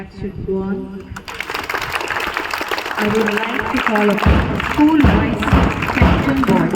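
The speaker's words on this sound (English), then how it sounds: "Please, the clap should go on." A voice speaks at first, then children at a school investiture ceremony break into sustained clapping, a dense patter with some thuds that keeps going while a voice continues over it.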